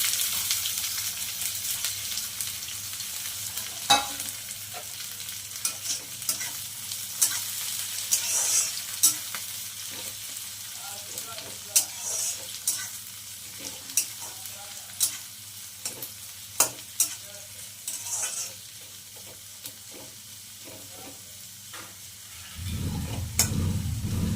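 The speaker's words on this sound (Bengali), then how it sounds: "পেঁয়াজটাকে একটু লাল লাল করে ভালো করে ভেজে নিচ্ছি" Chopped onion frying in mustard oil with whole cumin seeds, a steady close sizzle with a spatula stirring and scraping the pan now and then, with no talk.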